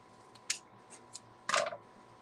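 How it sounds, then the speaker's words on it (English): Scissors cutting wire ribbon for a layered bow, heard as a few quick, crisp snips and a short crunchy cut, close and fairly quiet. "I'm just going to cut it right here."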